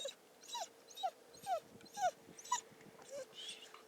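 A Border Collie working sheep during a herding confirmation test gives a series of short, high whines and yelps in a fairly regular rhythm, faint and at a distance, with some quiet voices in the background.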